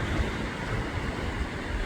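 Swift creek water rushing through a narrow pass at Mill Creek near the Thurman Flats picnic area off Hwy 38 in San Bernardino: a dense, steady roar of turbulent flow, close and continuous, with some wind noise.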